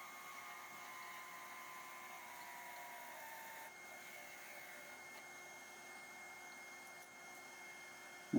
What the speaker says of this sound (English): Parting off the waste block that I didn't need.